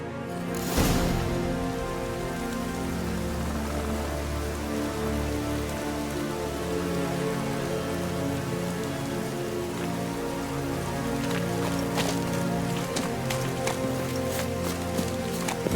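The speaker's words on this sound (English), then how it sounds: "Looks like rain." Rain falling in the video game The Witcher 3: Wild Hunt, a steady dense patter of drops on surfaces lasting the whole stretch, with a few sharper taps near the end.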